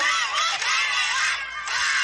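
A large crowd in Gao screams and cheers to welcome a Tuareg general named governor, a dense, continuous roar of high voices that holds steady and loud throughout.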